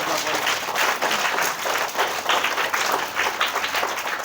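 People gathered for a parent-teacher meeting at a school clap to welcome a guest, giving a rolling burst of moderately loud applause with uneven swells, and a voice can be heard speaking over it.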